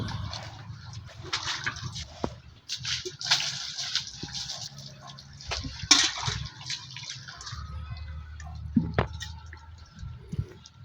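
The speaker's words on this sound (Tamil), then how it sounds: "இப்போ தான் பார்த்தீங்கன்னா மாடு குளிப்பாட்டிடுறோம்" Cow being washed for Maattu Pongal, water splashing and dripping in irregular bursts with wet slaps and gushes, close and moderately loud against a quiet background.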